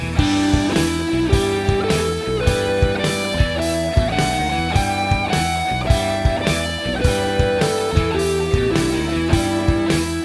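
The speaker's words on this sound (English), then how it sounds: "So I'm doing the pentatonic scale with an added natural ninth" A guitar plays a pentatonic scale with an added ninth, single notes picked steadily in ascending and descending runs with no voices.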